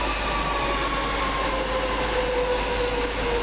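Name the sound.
Great Northern passenger train at St Neots station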